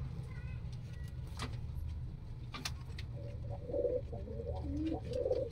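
Punjabi pigeons coo near at hand, with soft repeated throaty coos rising in the second half over a steady low background hum.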